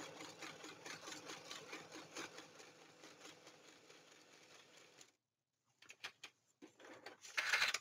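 A sewing machine stitches across the flap of a Little Golden Book junk journal for about five seconds, a steady close mechanical whir with rapid needle chatter, then stops; a few short handling knocks and taps follow.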